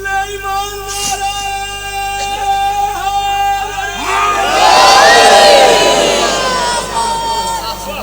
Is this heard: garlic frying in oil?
no